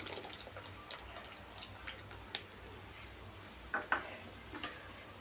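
Tamarind water being stirred into okra curry in a pot on the stove, with soft scraping, clinks and wet sloshing in a steady quiet simmer, a few sharper taps of the spoon against the pot.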